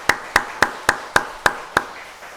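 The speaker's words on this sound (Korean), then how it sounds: "우리 박수로 축복하도록 하겠습니다." A church congregation at a Sunday morning service claps together in a steady unison rhythm, with seven sharp, evenly spaced claps ringing out loud and clear.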